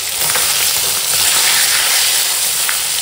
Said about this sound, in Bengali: দেখো এখন মাছগুলো সব ভাজা হয়ে গেছে সুন্দর করে